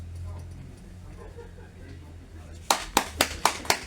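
Applause from a small audience at a poetry reading in a Parisian literary café: about five sharp bursts of clapping arrive near the end, after quiet room tone with faint murmuring voices.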